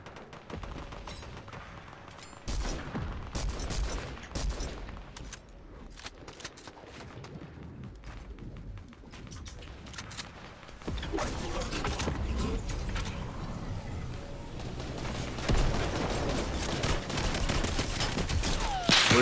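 Infantry rifle fire in the video game Fortnite, with bursts of rapid gunshots at varying distances over a busy game soundscape, growing denser and louder toward the end.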